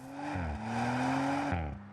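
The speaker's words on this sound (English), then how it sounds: "a shoutier exhaust helping the RS4 to sound as angry as it looks" Exhaust note of an Audi RS4 estate fitted with a louder, shoutier exhaust, heard alone as a loud, steady engine drone with pitch shifts like gear changes or throttle blips.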